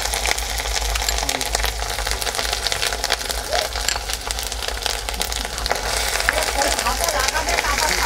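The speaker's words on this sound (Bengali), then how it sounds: "পেঁয়াজ বাটাটা একটু নাড়াচাড়া করে নেবার পর এবার আমি দিয়ে দেবো আদা রসুন বাটা" Ginger-garlic paste fries with onion paste in a pan for a Bengali-style jeera chicken, giving a steady, close crackling sizzle under a speaking voice.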